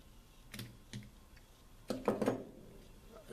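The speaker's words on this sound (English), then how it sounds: "you have to pull one of these little" A small metal hairpin clip comes off the choke linkage of an Edelbrock 600 cfm carburetor, giving a few faint, sharp clicks and ticks close by, with quiet gaps between them.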